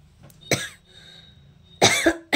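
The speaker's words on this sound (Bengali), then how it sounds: "কাশছি।" A sick woman at home coughs twice, one short harsh cough followed after a pause by a longer rougher one, close and clear in a quiet room.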